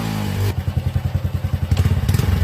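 Motorcycle engine cranking, catching and idling after a fuel injector check, with a rapid, even thumping pulse close by and a loud burst at the start.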